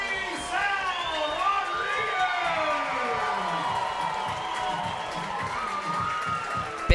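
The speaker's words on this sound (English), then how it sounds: "Big roar from the crowd here at Athletic Park" A baseball crowd at Athletic Park roars and cheers steadily in the bottom of the 9th, with shouts and whoops rising over a sustained wash of noise; an announcer's voice is heard over it.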